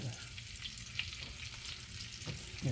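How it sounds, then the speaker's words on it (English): Onions frying in lard in a pan give a low, steady sizzle and crackle, close but fairly quiet, with a few faint clinks. "Just fry the onions."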